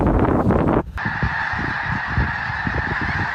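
Thousands of migratory geese blanket the sky and shore, honking in a loud, dense, continuous chorus that briefly drops out and then resumes as a steady wall of overlapping calls.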